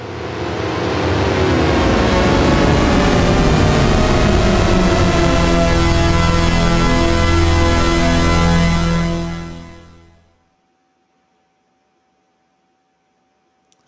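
A THX-style deep note synthesized in Massive from Polysaw wavetables, a dense swelling chord of many sliding voices that spreads wide and stays loud for about nine seconds before fading out, then near silence.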